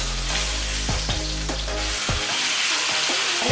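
A steak sizzles steadily in a hot pan after flipping, with a constant hiss broken by several sharp knocks and scrapes of the meat and utensil against the pan.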